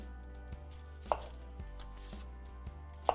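A knife chops a Vidalia onion on a cutting board: soft, fairly quiet taps at an irregular pace over a low steady background hum, with no talk.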